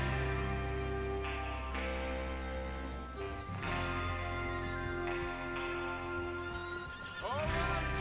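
Horses whinnying in the video game Red Dead Redemption 2, a neigh rising over a busy game soundtrack with music and ambience, fairly faint and mixed under other sounds.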